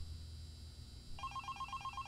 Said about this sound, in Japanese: いつも通り電話がかかってくるね。